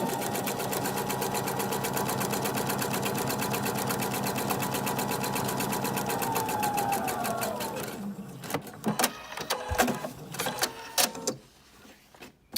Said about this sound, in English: you're going to stitch right at 1/4 inch